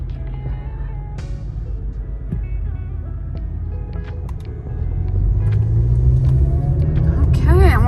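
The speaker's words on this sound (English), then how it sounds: "It's a pretty truck." A truck driving by on a Las Vegas street, a steady low engine rumble with road noise that swells louder and closer toward the end as it passes.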